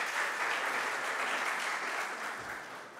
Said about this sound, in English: Deserves applause, yeah.